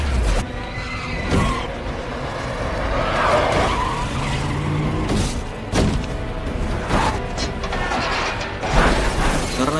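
A car drives out and rams into a crowd of Darkseekers in a film-recap scene, with tire skids, mechanical clanks and repeated impact thuds layered over a steady engine and score bed.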